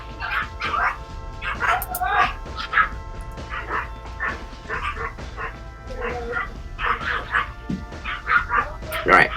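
Tiny yappy dogs at a neighbour's place bark and yip nonstop in rapid, overlapping bursts, with occasional whimpers, loud and steady throughout.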